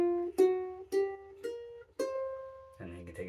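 Ukulele picking a blues scale downward, one clear plucked note at a time in a slow even walk, each note ringing briefly before the next, ending on a low strummed chord.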